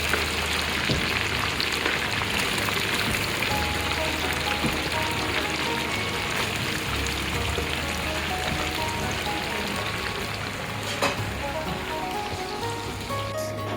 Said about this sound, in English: There's an onion being thrown in there.